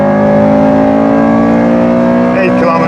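Honda VTEC engine screaming near 8,000 RPM on the Nürburgring, heard as a loud, sustained in-car howl that holds steady before shifting slightly at the end, with someone talking over it.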